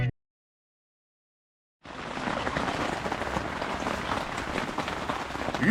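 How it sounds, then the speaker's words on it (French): Rain falls on a tarp in a Norwegian forest as a dense, steady patter that starts suddenly after a silent pause and holds at an even level. "Le lendemain, on se fait réveiller par la pluie."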